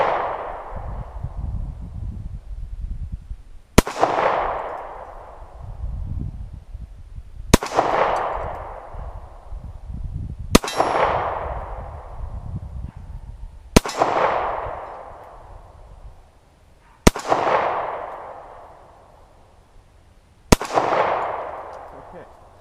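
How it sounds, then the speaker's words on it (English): Seven sharp gunshots from a Taurus Slim pistol, fired outdoors at a steady pace about three seconds apart, each crack loud and close with a short fading ring, over low wind rumble. "I think I'm gonna go ahead and just fire more ammunition."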